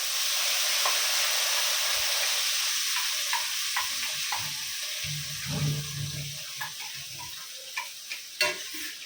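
Ground masala paste with cashews and almonds frying for red Mughlai chicken, a soft steady sizzle with light stirring scrapes and a few sharper clinks toward the end, no talking.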